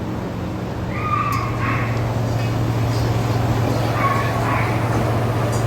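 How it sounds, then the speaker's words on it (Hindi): Rocky the dog whining at a dog hostel, two thin, high, cooing whimpers about three seconds apart, moderately faint over a steady low mechanical hum and background noise. "रॉकी कुकाड़े कर रहा है कू कू करके"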